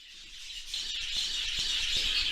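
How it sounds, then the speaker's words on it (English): Many birds calling in a bird room, a dense wash of high chirps and twittering blended into a steady close chorus, with faint low thumps beneath. "as you can probably hear, we're in the bird room right now."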